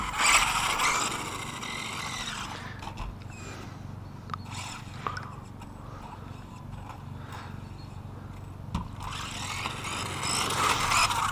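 Small HPI Savage XS radio-controlled car running on its stock engine, motor note rising and dropping as it cuts out intermittently, with loud bursts at the start and end and sharp knocks in between.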